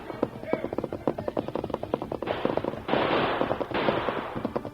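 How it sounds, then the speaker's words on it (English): Rapid popping gunshots from warning shots fired in an old-West radio drama, a quick irregular string of cracks with bursts of noisy wash, moderately loud behind a speaking voice. "He fired several warning shots that hit the ground close to men who sought to bring their guns to bear."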